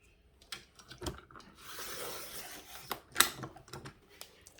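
A paper trimmer slices one-inch strips of scrapbook paper, soft sliding and rasping strokes of the blade with small taps and clicks, quiet and close.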